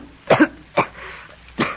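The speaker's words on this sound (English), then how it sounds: "How it makes you cough, I mean." A character coughs after smoking in an old-time radio drama, three close, sharp coughs in quick succession with short pauses between.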